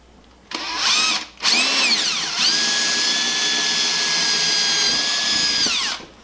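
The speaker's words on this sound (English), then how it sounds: "I just decided to drill them out right from here" A power drill boring holes through a computer case's motherboard tray runs in a loud, near, sustained whine, starting in a short burst, pausing, then spinning steadily for about four seconds before winding down.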